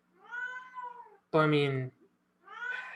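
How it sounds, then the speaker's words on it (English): A pet cat caterwauls with long, loud meows that rise and fall near a closed door, one sharp wail in the middle and a few spoken words before it. "My cat is going nuts."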